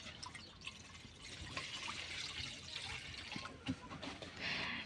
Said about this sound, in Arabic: بتصب مية لستها